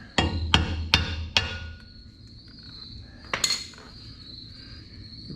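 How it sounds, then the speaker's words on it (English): Four quick, sharp metallic hammer taps in a steady rhythm on a drive socket during a Ford Bronco brake rebuild, then a pause and a couple more close taps, nearby and fairly loud. "take a little hammer"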